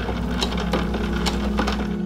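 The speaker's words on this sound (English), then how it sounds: "Remember, put your pressing foot down always before sewing, or your sewing machine will get all jammed up." A sewing machine stitches a dress seam in a steady mechanical whir with a soft repeating clatter, running close and continuous.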